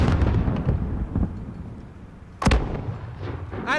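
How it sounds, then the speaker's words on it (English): Mortar fire in the Call of Duty: Modern Warfare campaign, deep booming impacts with a sharp blast near the middle, rumbling over constant low battle noise. "Oh, dang. Mortars!"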